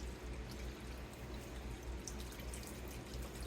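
Tea pours into a pot for a soup, a faint, steady liquid splash and trickle lasting a few seconds, heard alone.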